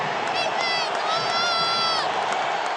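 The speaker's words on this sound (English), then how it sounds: "This crowd is really revved up." Large football crowd at a Colts home playoff game against the Titans, a dense continuous roar of cheering with shrill whistles and whoops rising above it, heard from inside the stadium.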